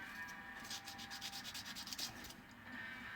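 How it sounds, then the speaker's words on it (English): Light, fast rubbing strokes of a UMP sander with 220 grit on a car hood hinge, a quiet rhythmic scratch repeating for a few seconds with no talk. "I just grab my UMP sander. It's just a 220 on this side, 1200 on this side."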